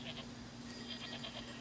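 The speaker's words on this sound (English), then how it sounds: "It's the bells on the goats." Faint, distant bells jingle on a herd of goats in the film Lone Survivor, with soft goat bleats drifting through a quiet outdoor scene.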